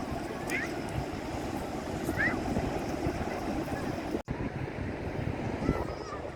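A camper van wading through shallow waves in a video game, with a steady wash of surf and wind noise throughout and a brief dropout partway through, no speech.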